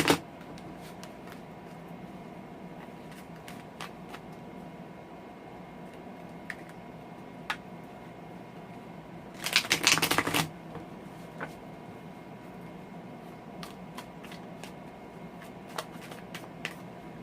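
A deck of Wheel of the Year tarot cards is shuffled in one quick riffling burst partway through, with sparse light clicks and taps in an otherwise quiet room before and after.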